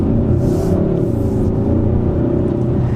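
Hyundai Sonata N Line (2022) engine note under acceleration with active sound enhancement, a steady low droning rumble that stays loud and continuous throughout, with no talking.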